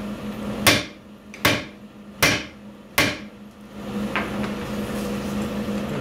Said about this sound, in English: I just want to whack this with a hammer a few times and make sure it's seated all the way.